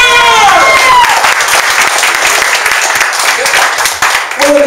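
Loud audience applause fills a holiday networking event as a speaker is introduced, dense steady clapping from a crowd mixed with cheers and a whistle, ending as a voice cuts in.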